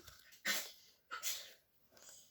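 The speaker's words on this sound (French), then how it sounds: "Atchoum! Bless you!" Two sharp sneezes burst out close to the microphone, each a sudden breathy explosion, followed by a softer exhale.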